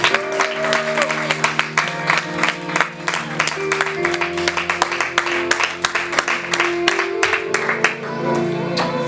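A church congregation claps and applauds to acclaim the Lord, with steady rhythmic clapping throughout and cheering voices and music beneath it.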